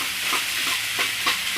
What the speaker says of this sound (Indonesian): Sisa yang tadi kita langsung masukkan nasi, kita aduk rata, tambahkan kecap lagi.